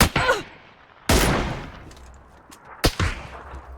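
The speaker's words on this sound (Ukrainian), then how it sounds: "куди ти мене стріляєш?" Gunfire in the video game PUBG, three sharp, loud shots spaced about a second apart, each trailing off in a short echoing decay.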